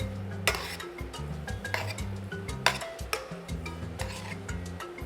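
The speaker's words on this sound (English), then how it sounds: "Going to give it a little stir. Make sure and mix up all the veggies." Vegetables and noodles for lo mein are stirred in a pan, with repeated clinks and scrapes of a utensil against metal over a steady background hum.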